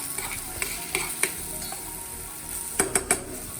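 Finely diced onions fry in olive oil in a pan, a soft steady sizzle close by, broken by scattered clinks and a quick run of sharp scrapes as a utensil stirs them against the pan.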